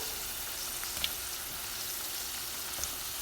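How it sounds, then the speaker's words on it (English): Bitter gourd slices deep frying in hot oil over a medium flame, a steady close dense sizzle and crackle with a few small pops, no voices. "fry well until it gets golden brown"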